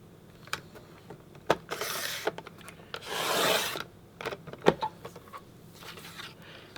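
A 2.5 inch paper strip is cut for a scrapbook page, with scraping rasps and a longer sliding cut, interspersed with sharp taps and clicks at close range.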